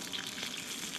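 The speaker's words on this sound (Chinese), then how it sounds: "你把这个葱和姜放到锅里头去给它煎啊" Scallion and ginger frying in a little oil in a wok, giving a short, even, close sizzle with a soft crackling texture and no talking.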